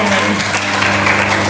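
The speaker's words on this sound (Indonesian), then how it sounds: "Oke, tepuk tangan untuk videonya." A school audience at a session on sexual violence in Bandung claps for a video, a dense, loud, continuous patter of many hands, with speech mixed in.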